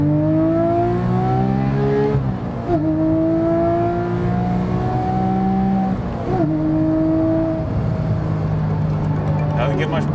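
A Porsche 997.2 GT3 RS engine revs loud and close, its pitch climbing steadily in long pulls, dropping sharply between gear changes, and climbing again.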